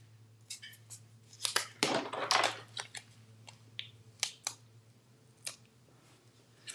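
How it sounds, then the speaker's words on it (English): Sharp scissors snip through patterned paper in a quiet craft room: a series of crisp, close snips and clicks, including one longer slicing cut, with pauses between them and a steady low hum underneath. "Let's get the actual sharp scissors."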